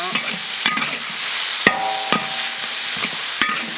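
Chopped chili being stir-fried in a wok, a soft continuous sizzle punctuated by several loud, sharp metallic scrapes and knocks of the spatula against the pan, close and alone.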